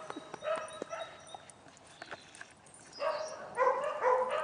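Dogs at a dog daycare yip and bark in short bursts, with soft whimpers in between, amid busy play noise. A clustered flurry of higher barks comes toward the end.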